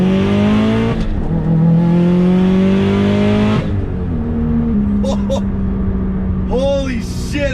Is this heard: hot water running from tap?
no